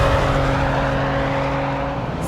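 A car engine pulls hard at full throttle in fourth gear near 6,000 rpm, a loud, steady high-revving drone heard from on board with road and wind noise underneath.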